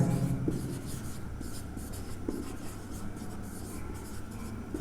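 Marker or chalk strokes on a board during a physics lesson on capacitors, a continuous close scratching with short strokes throughout and no speech over it.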